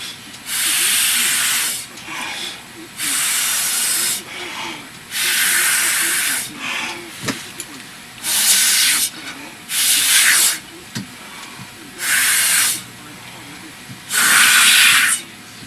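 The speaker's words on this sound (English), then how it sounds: "I'll just take a regular straw, blow it." Paint blown through a regular drinking straw, heard as seven or eight bursts of loud breathy hissing, each lasting about a second, separated by short pauses and set against a quiet background.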